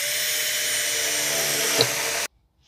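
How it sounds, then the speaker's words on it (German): A power drill bores through a camper wall at marked points, a continuous high whine for about two seconds with a small bump near the end, then it cuts off abruptly to silence. "jetzt werde ich hier an den angezeichneten Punkten einmal durchbohren"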